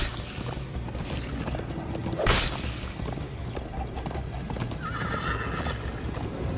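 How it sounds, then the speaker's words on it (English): A horse neighs and gallops in the video game Minecraft Story Mode, with steady hoofbeats throughout and a sharp whinny near the middle, set against game music. "First time on a horse here."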